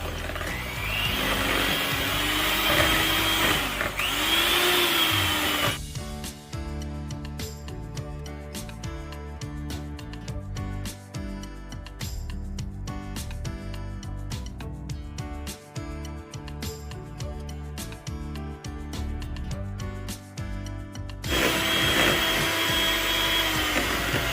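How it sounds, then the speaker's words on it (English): An electric mixer beats twelve egg yolks with half a cup of sugar for a layered lapis legit cake, a steady loud whirring drone running continuously through the middle of the clip, with quieter kitchen sounds before and after. "So it was 12 egg yolks and then a half a cup of sugar. And you're just going to beat it until it gets thick."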